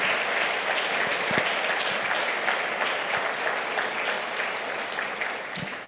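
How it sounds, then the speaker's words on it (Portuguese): A church congregation applauds together, many hands clapping in a thick, continuous wash that holds steady for several seconds before starting to taper off. "Vamos aplaudir o Senhor?"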